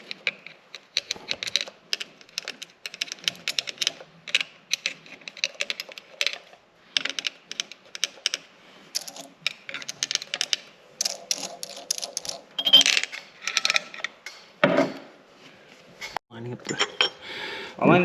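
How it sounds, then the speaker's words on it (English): Gears and shaft being fitted into a John Deere B tractor transmission: irregular metallic clicks, clanks and ratcheting taps at close range, bursts of handling noise with quiet gaps, and talk at times. "Align the shaft and push it through the other side."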